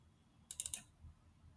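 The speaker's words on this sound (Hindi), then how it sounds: "यहाँ पे मैं इस पर क्लिक करूँगा और यहाँ पे डबल क्लिक करूँगा" A computer mouse clicks during work in CorelDRAW 2021, giving a tight burst of four sharp, close clicks in under half a second. The clicks sound alone in otherwise near-silence.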